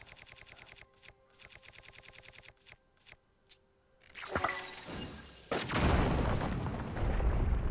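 A bomb blasts in Zelda: Tears of the Kingdom, a loud, near burst following a stretch of rhythmic clicking game sounds, then a second heavy rumbling explosion that lingers.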